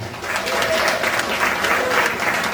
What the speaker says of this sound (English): Let's have a big round of applause for Captain Shane